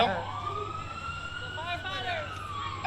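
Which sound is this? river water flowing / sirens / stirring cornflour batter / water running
sirens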